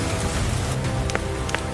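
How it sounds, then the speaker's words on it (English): Cartoon rain falling against a window, a steady hiss of drops on a surface with a couple of brighter droplet plinks, moderately loud and continuous over a soft background tone. "It starts to rain, and Peppa and George watch the drops roll down the window like tiny mirrors."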